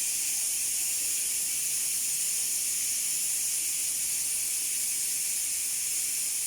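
A pressure cooker cooking beef vents steam in a steady, continuous hiss that holds at an even level throughout, with no other sounds over it.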